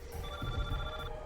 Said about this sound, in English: My phone rang about 3 o'clock in the morning.